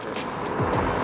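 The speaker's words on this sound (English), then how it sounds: "A lot of cars," Busy Moscow city street with cars rumbling past, a dense continuous traffic roar close by with engine hum swelling slightly toward the end, no talk.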